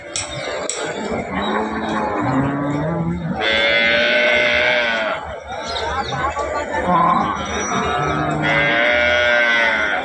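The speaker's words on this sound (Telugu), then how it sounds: "ఇంకా కూడా ఆవులు వస్తూ ఉన్నాయి మార్కెట్లోకి." Cows at a busy weekly cattle market: loud, close moos rise and fall repeatedly over a dense bed of crowd chatter, with other livestock calls mixed in.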